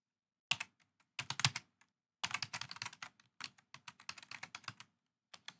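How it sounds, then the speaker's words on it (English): Someone types a command on a computer keyboard in a quiet room: crisp, close keystrokes come in quick bursts separated by brief pauses, with no voices. "Then we'll type the name of the unit."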